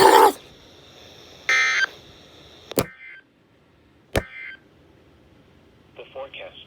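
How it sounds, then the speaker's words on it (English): Emergency Alert System weekly test tones on NOAA weather radio, with loud buzzy data bursts, sharp clicks and steady beeping tones separated by quiet gaps, closing with a short warbling tone. "This concludes the weekly test of the NOAA radio warning alarm and the emergency alert system"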